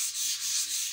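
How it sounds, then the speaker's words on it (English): Steady rasping strokes of a saw cutting wood, rhythmic back-and-forth with brief dips between passes, fairly close and continuous. "He's been there sawing all day."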